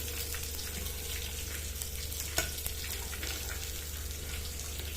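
Vegetables such as peas and onion frying in a pan for pulao give a steady, close sizzle that runs without a break, with a brief stir or clink near the middle and no talking.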